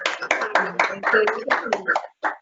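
Scattered hand claps come over open microphones from a few listeners after a talk at an International Water Day event, mixed with voices talking on top.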